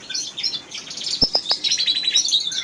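A pair of pied redpolls or siskins in a breeding cage chirp and twitter in quick, high, close calls, with a few soft thumps from the cage underneath.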